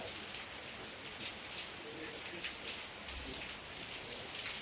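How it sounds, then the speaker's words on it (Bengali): Steady rain falling outdoors near a home kitchen, a soft continuous patter of drops on surfaces, even and moderately faint throughout. "এই দেখো বৃষ্টি শুরু হয়ে গেছে।"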